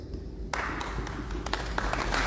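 Audience applause at a youth speaking event, a sudden swell of dense clapping that starts about a half second in and holds steady and loud to the end.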